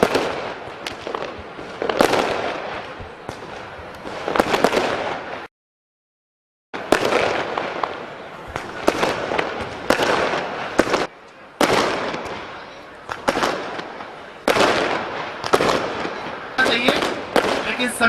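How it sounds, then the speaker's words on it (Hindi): Firecrackers go off at a school celebration in India, rapid crackling bursts in loud clusters with a short silent gap, popping in dense strings near and far. "हम भी बजवाएंगे पटाखे, उसी के कारण बजवाए जा रहे हैं।"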